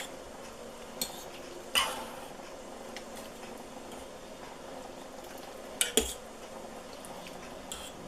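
A bowl and utensils are handled quietly while lamb stew from a slow cooker is served, giving a few faint clinks and a brief scrape against low background noise.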